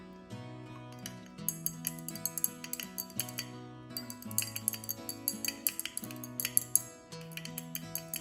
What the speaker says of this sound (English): Next, I added citric acid and stirred to dissolve it.